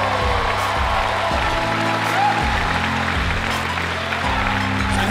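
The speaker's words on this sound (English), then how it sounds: "Huge round of applause for the Melodic Caring Project and these kids." A concert crowd at a show in Seattle applauds steadily for a few seconds, with clapping spread over a sustained musical tone in the background.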